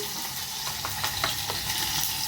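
Dal tempering sizzles and crackles steadily in hot oil, a dense continuous fry with small pops and stirring scrapes, close and alone.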